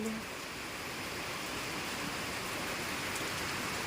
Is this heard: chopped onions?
no